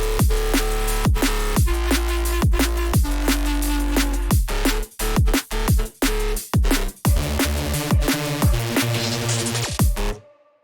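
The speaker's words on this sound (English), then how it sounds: "the drums and the bass should sound something like this." Jump up drum and bass plays loud and close, with punchy drums, heavy bass hits and rhythmic gaps before ending abruptly.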